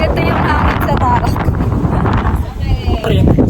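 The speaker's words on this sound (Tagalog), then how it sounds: "Guys, ganito yung hangin sa Tarok." Strong, gusty wind roars steadily across an open microphone on the summit of Mt. Tarak, with voices faintly mixed in beneath the rushing noise.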